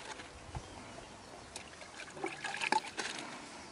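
Water trickles and splashes softly while a rescued dog with hair loss is bathed outdoors in the sun, a faint, irregular dribble that grows busier toward the end.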